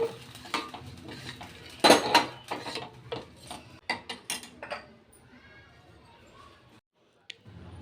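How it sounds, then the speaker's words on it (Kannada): A metal spoon stirs jackfruit payasa with cashews and raisins in a pot, giving a run of close clinks and scrapes against the metal rim, then fading to quiet. "ಗೋಡಂಬಿ ದ್ರಾಕ್ಷಿನೆಲ್ಲ ಇವಾಗ ಪಾಯಸಕ್ಕೆ ಹಾಕೋತಾ ಇದ್ದೀನಿ. ನೋಡಿ, ತಿರುಗಿಸ್ತಾ ಇದ್ದೀನಿ."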